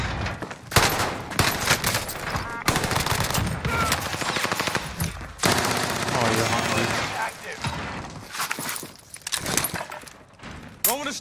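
Gunfire in Call of Duty Warzone on Rebirth Island, with dense bursts of rapid automatic fire and sharp shots in close succession, broken by brief pauses, loud and near.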